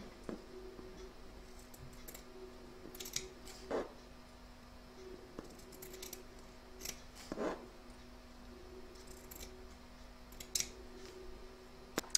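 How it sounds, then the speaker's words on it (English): Sharp scissors snip through fabric fringe on a no-sew burp cloth, a few quiet, crisp cuts spaced a few seconds apart over a soft background hiss. "So nice sharp pair of scissors, and I'm just going to remove a pin or so at a time, and then cut down"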